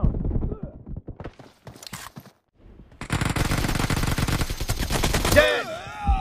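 Rapid gunfire bursts from the BGMI mobile battle royale shooter fill the latter half, loud and sustained after a stretch of sparse, scattered shots and quieter game sounds.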